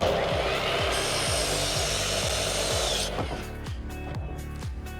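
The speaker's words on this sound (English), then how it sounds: "I cut off 3/16 of an inch off the end of the 2x4, and these will be at 45-degree angles" A power saw cuts through the end of a 2x4 wooden board at a 45-degree angle: a loud continuous whining buzz with rhythmic pulsing, then the blade winds down into rattling and clattering, close by, no speech.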